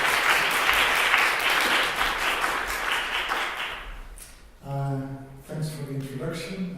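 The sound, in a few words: lecture audience applause welcoming Professor Gert Biesta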